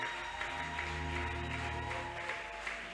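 A church congregation claps and cheers together at a worship service, a steady dense wash of applause with sustained organ or keyboard tones underneath, even and continuous throughout.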